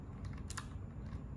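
A short, faint burst of typing on a computer keyboard, a few quick key clicks alone in a quiet room.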